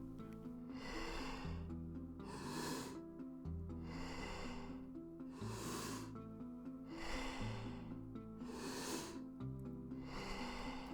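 Slow, deep wave-like breathing in the Wim Hof method: full inhales through the belly into the chest and long exhales repeat in a steady rhythm of about five cycles, up close over a continuous musical accompaniment.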